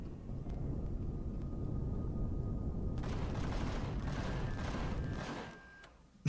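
Automatic gun turret in the space survival game Empyrion firing steadily for several seconds, a dense unbroken stream of shots that stops abruptly near the end.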